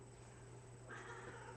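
A cat gives a short meow, faint and drawn out near the end of a brief stretch, over a steady hum of indoor background noise.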